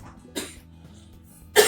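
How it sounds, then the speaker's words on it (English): Two short coughs separated by a pause, fairly close, over a faint low background hum. "So sorry about the coughing."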